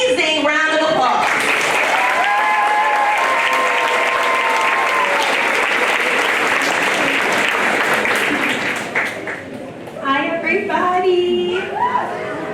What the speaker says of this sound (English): Let's give them one more amazing round of applause.